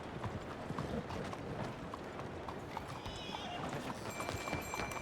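A horse gallops in Red Dead Redemption 2, its hooves drumming in a fast, steady clip-clop under game ambience, with a voice and faint whinny-like tones briefly heard near the end.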